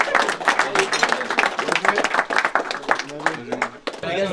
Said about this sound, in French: Bravo les gars, vous vous applaudissez.